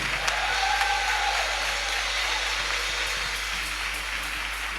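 A church congregation's applause at a French-language service during a fasting and prayer retreat, a dense, steady wash of many hands clapping that carries evenly throughout with no break, loud and somewhat distant in a large hall.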